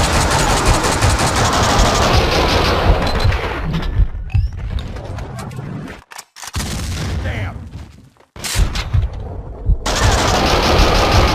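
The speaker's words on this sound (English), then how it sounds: "Shoot to kill!" Heavy automatic gunfire from a shootout in the PC game Max Payne 2, loud, dense bursts that drop out into brief near-silent gaps before resuming, with shouting voices mixed in.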